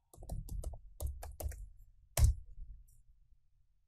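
Password keystrokes tapped on a computer keyboard at a Linux terminal: a quick burst of close, crisp clicks followed by one heavier key press, likely Enter, then quiet.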